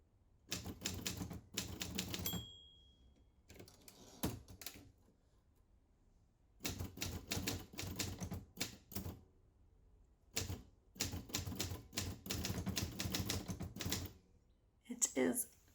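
A manual typewriter clatters in quick bursts of keystrokes, each run ending with pauses, a carriage-return ding and a zip of the carriage, close and crisp in a quiet room.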